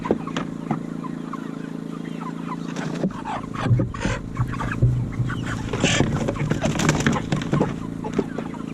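Pasture-raised chickens cluck and squawk in agitated bursts while being grabbed by hand and packed into a bin, with rustling, flapping and handling thumps mixed in at close range.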